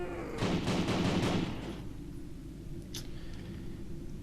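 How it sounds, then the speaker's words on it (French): A quick burst of several magnum revolver shots fired at a zombie in the video game Nightmare House 2 rings out loud and close, then gives way to quieter game ambience. "Je lui ai mis je sais pas combien de balles de magnum et monsieur ne meurt pas."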